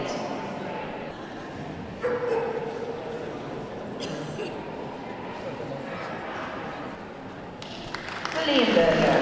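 A Leonberger barks a few times in the ring at the Birmingham National Dog Show, amid crowd murmur and a spoken announcement, with a brief burst of applause near the end.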